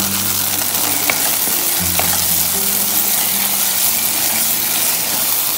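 Tomatoes fry in a pan with a continuous close sizzle, a few light clicks of stirring, and a low steady hum underneath.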